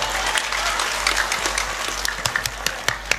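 Applause from the audience at an Islamic religious gathering in Java, a continuous mid-distance clatter of many hands that thins toward the end into a few sharp, separate claps.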